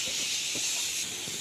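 Vegetables tempered in hot oil give a steady, bright sizzling hiss that fills the short moment evenly, close and continuous.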